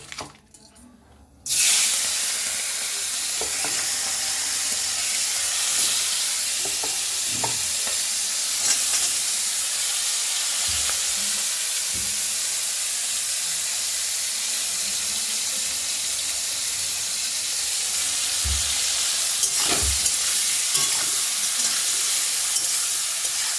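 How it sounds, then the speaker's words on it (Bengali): Loud, steady sizzling of prawns frying in hot oil, a dense continuous crackle with occasional pops and spoon clinks, after a brief quiet start. "এবার আমি চিংড়ি মাছটাকে সুন্দর করে আগে ভেজে নেব"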